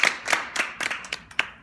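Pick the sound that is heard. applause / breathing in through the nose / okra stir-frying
applause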